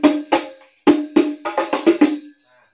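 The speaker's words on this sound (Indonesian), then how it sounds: "pukulan sebelum naikan suaranya seperti ini" Sholawat hand drum playing the strike variation that leads into the rise of Allahul Kafi, a close, dry run of about nine sharp hits in an uneven rhythm, heard alone.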